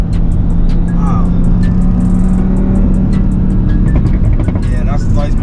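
A stage 3 big-turbo Audi RS3 of about 700 bhp revs hard in the street, its engine roaring loud and steady throughout with rising pitch sweeps.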